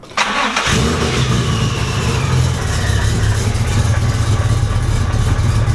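A supercharged Nissan G35 cranks over and fires on its first startup, settling into a loud, rough, steady idle close by with no one talking.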